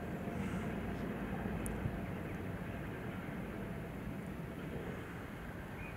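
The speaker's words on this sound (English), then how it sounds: "We've got the planes taking off from Heathrow." Steady, broad roar of jet aircraft taking off from Heathrow, heard from Bushy Park, continuous and fairly loud throughout with no pauses, like planes climbing away nearby.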